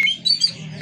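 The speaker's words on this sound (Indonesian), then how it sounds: "Burung baru ya, Daya?" Kacer bird (oriental magpie-robin) singing close by in a bird contest setting, a quick burst of bright whistled and chattering notes lasting under a second.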